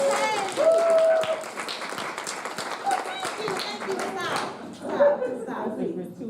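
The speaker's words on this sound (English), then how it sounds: "I'm going to give you an opportunity to just start clapping for me." An audience at a talks event claps in scattered bursts while a speaker talks over the top. Children's voices and light movement are mixed in, and the clapping fades toward the end.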